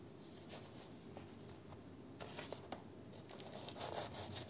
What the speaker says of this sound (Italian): Sentite come bella scocchiarella.